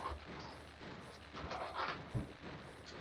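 Booming fireworks bursts in the farming video game Farm Together 2, a dense run of muffled thuds and crackles at steady loudness, with a sharper bang near the end.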